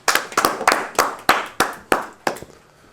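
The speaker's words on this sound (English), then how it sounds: "Round of applause for Virgil." A small workshop group claps for a participant in a short burst of about nine sharp, separate claps that slow and fade toward the end, close and clear with no talking.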